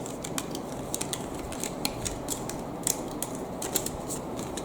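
A Dream Cut die-cutting machine rolls a cutting plate through in one pass, giving a steady close-up mechanical grinding with rapid clicks and ratcheting ticks throughout.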